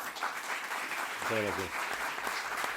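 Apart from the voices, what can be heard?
audience applause for a guest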